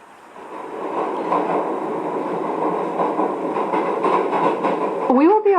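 Inside a passenger train running toward London King's Cross, a steady loud rumble of the carriage with faint rhythmic rail clicks, then a rising chime at the end.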